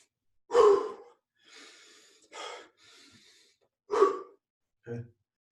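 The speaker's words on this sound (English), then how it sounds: "Showing you some breathing stuff here too." Forceful breathing exercise during a kettlebell-style power workout: several sharp, loud exhales and gasps close to the microphone, separated by quieter inhales and pauses.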